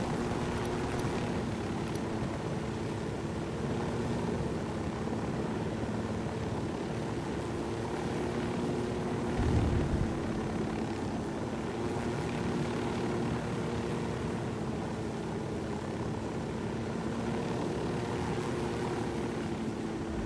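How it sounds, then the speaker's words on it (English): A helicopter in the Special Forces video game hums in a steady, droning rotor-and-engine rumble that holds constant throughout, with no voices and a brief thump near the middle. "Yeah, that helicopter's coming back, so we gotta go."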